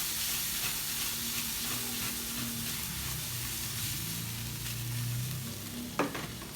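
Shrimp sizzling and frying steadily in a hot pan for popcorn shrimp, a continuous close hiss with light stirring scrapes and a sharp clatter near the end, no talking.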